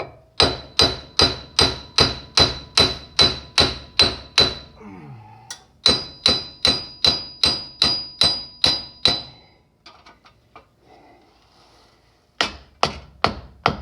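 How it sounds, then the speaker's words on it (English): Loud, evenly spaced metal hammer blows knocking an axle through a wheel bearing on a 2012 Toyota RAV4, ringing out in long runs, pausing briefly, then resuming with another quick series of strikes. "I had to knock that axle through."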